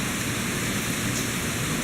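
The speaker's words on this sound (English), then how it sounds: "As you can see, it is super windy out here." Hurricane-force wind and rain from Hurricane Matthew in Savannah, Georgia, a loud, steady roar of gusting wind and pouring rain with no letup throughout.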